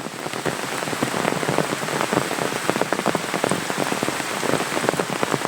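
Steady rain pours down, drumming densely on cashew leaves and surfaces in the Konkan countryside with countless close, crisp droplet taps and no voices.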